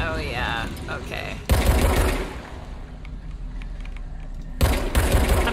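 Rapid automatic gunfire in the video game Control comes in loud bursts, with sharp crackling volleys separated by quieter stretches of ambient noise.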